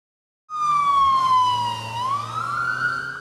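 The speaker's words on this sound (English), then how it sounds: "Police sirens and flashing lights was all you could hear in this Winston-Salem neighborhood Wednesday afternoon" Police car siren wailing through a Winston-Salem neighborhood, starting abruptly and loud, a single close siren sweeping down then rising again in pitch.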